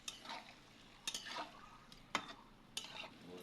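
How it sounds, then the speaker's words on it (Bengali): Boiled jackfruit being stir-fried in a pan, with a low background sizzle broken by four or five distinct spatula scrapes and clatters against the pan, quiet and close, with no voices. "এবার সিদ্ধ করা কাঁঠাল ঢেলে দিচ্ছি। যতক্ষণ জল শুকায় না যায় অতক্ষণ আবার কষাবো"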